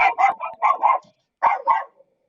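A dog barks in a rapid run of several loud, close barks, pauses briefly, then lets out two more, all at an outdoor anti-war rally with no talk over them.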